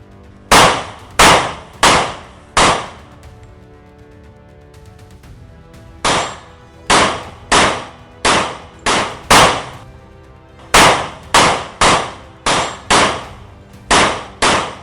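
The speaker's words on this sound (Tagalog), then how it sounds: "Narinig mo Ligaya? Mga putok ng baril ko." Loud gunshots in a Filipino action drama ring out in rapid close clusters: a run of about four sharp cracks, a pause, then two quicker volleys of several shots each.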